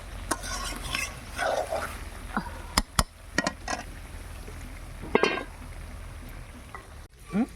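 Curry being sautéed in a pan at an outdoor village farm cookout: scraping stirs and sizzling come in bursts, broken by sharp clinks of the spatula on the pan, with voices nearby.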